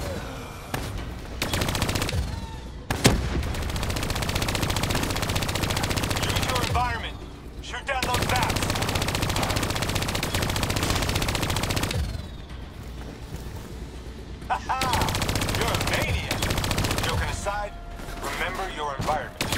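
Hijacked turret firing in Call of Duty: Black Ops 3, loud sustained automatic gunfire in long bursts with short pauses, a voice talking over parts of it.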